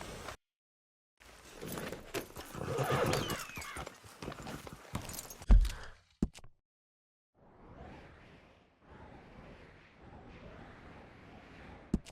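In the video game Red Dead Redemption 2, a horse's hooves clop along with rustling movement, then after a gap come quieter steady hoofbeats. No clear neigh stands out.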